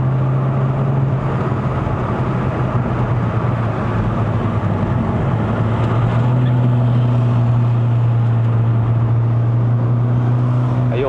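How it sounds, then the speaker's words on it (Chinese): Ford Focus 1.5L EcoBoost engine driven uphill toward Genting in Malaysia, blipping the throttle on downshifts: a steady engine drone from the cabin with a tone that steps in pitch as the gears change, no talk. "然后每一档都会降档的时候都会有那个降档补油啦，连1号档都有。"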